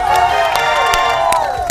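A crowd at a 100-metre sprint race cheers and shouts for the runner Farida, loud, close, with excited overlapping voices and a few claps over a steady roar.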